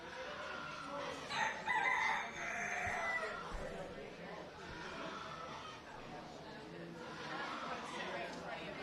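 Old English game bantam roosters crow at a 4-H poultry show, a short crow rising over steady crowd chatter and nearby voices while people talk throughout.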